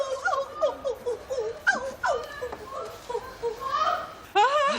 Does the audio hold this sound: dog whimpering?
yes